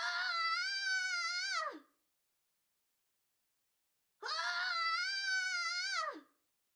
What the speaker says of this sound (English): Did someone scream?